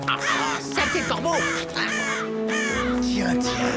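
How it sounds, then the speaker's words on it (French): Crows in a wolf-themed animated cartoon caw harshly several times in quick succession, loud and close over a low musical background. "Saleté de corbeau."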